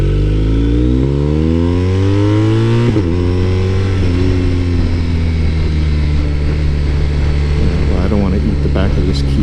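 A BMW R 1250 RS motorcycle rides along, its engine droning loud and close with a shift and rising revs partway through, accompanied by steady wind and road noise throughout.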